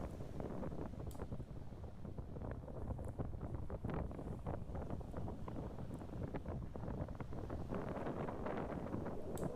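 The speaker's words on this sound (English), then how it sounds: "Oh, that wind." Strong wind buffets the microphone on a beach after days of storms, a steady loud roar with gusty surges throughout and no talking.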